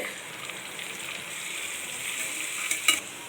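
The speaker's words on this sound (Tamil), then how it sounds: "ஆனியன் நல்லா ஃப்ரை ஆயிடுச்சு." Onions, garlic and dried red chillies frying in a pan give a steady bright sizzle, with a couple of sharper pops and stirring clatter near the end.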